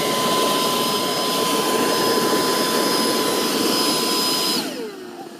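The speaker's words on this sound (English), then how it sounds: "So it pumped it up, and it keeps pumping, keeping the pressure." Black Diamond Jetforce avalanche airbag pack, its electric fan whining loudly and steadily as it inflates the bag, then the pitch drops and spins down near the end.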